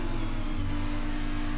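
A Formula 2 race car at Monaco passes through the Nouvelle chicane, its engine droning steadily with a buzzy, sustained tone, close and loud, with no pause over the short stretch.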